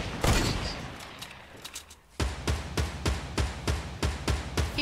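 Distant and nearer gunfire rings out during a large battle in Fortnite, a regular series of sharp shots about every half second after a noisy scuffle, moderately loud with no speech.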